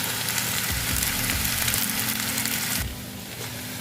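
Potato pieces frying in a pan with popped mustard seeds and urad dal, a loud dense sizzle with stirring scrapes that drops quieter near the end.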